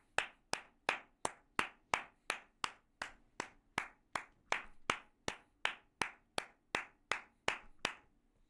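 Steady hand clapping, about twenty crisp claps at an even rhythm, close and isolated with no talk.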